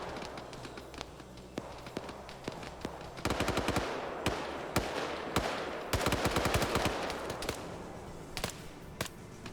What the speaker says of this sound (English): we're hearing some loud gunshots here